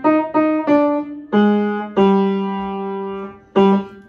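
A French horn plays a short passage, several sustained notes in sequence with a couple of longer held tones, close and clear with no talking.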